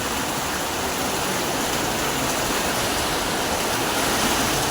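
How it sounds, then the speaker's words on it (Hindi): Floodwater rushes hard through the streets of Sawai Madhopur city after heavy overnight rain, a loud, continuous broadband roar without pause and with no voices. "सवाई माधोपुर शहर में तेज बहाव के साथ पानी बह रहा है"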